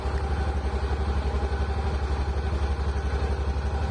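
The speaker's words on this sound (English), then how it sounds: "we don't have a problem having a conversation over the sound of the engine." A Honda Pioneer 700-4 utility vehicle engine idles steadily in cold, snowy conditions, with a loud, even low-pitched throb and a regular pulsing rhythm that continues throughout with no voices.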